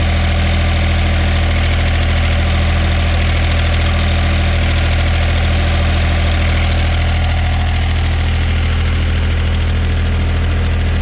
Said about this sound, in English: I think that's just the exhaust rattling right there where you can see those springs.